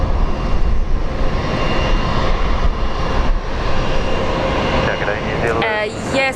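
A Korean Air Boeing 787 departing Brisbane International Airport, its jet engines a loud, steady broadband roar throughout, with faint radio-like tones near the end.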